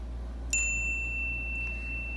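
A single bright notification bell ding strikes once and rings out with a long, slowly fading metallic tone over a quiet, steady background hum.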